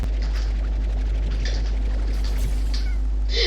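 Cat meowing in a video game, a few short calls over a steady low hum with no talk.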